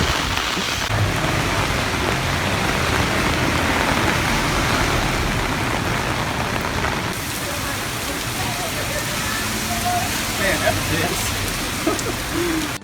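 Heavy rainy-season rain in Fukuoka, Japan pours in a loud, continuous hiss close by, with faint distant rumbling and a few indistinct voices under the downpour.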